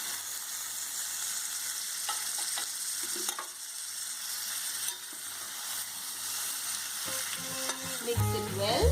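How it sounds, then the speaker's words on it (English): Jackfruit sizzles steadily in a pan with poppy seed paste and spices while a spoon scrapes and stirs through it, with a constant close frying hiss and occasional clinks. "Few seconds of stirring and add your jackfruit."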